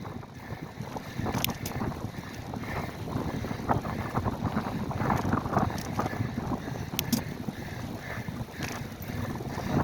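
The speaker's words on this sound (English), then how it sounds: "And right back into the fucking wind." Strong wind buffeting a microphone while cycling into a headwind at a battlefield park, a loud continuous rumbling roar with gusty fluctuations and no talking.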